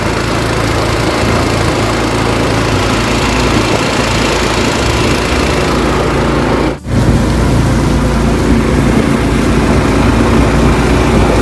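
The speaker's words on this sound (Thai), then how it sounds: "เสียงเรืออาจจะดังนะ" A loud, constant engine drone from a fishing boat on Lam Takhong Reservoir fills the clip, rough and steady like a boat motor, with one brief dropout midway; no voices.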